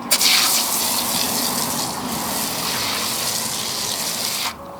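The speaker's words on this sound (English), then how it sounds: "We're going to go ahead and utilize the IK foamer in this scenario for half of the wheel" An IK foamer sprays wheel cleaner foam onto a car wheel, a loud continuous hiss that starts abruptly, holds steady for about four seconds and then cuts off.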